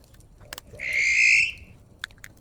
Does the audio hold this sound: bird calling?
yes